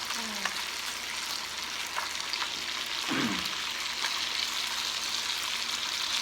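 Food frying in a pan, a continuous crackling sizzle of hot oil with a few brief scrapes or stirs, heard alone at close range.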